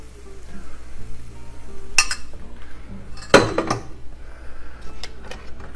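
Mac and cheese spooned into a smoked BBQ burrito, heard as a few sharp metallic clinks of a utensil against a dish, one near the start of the second half and a louder scrape a moment later, over a quiet kitchen background.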